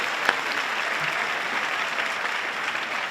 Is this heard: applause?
yes